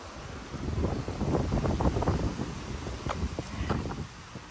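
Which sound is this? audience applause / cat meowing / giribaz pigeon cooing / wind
wind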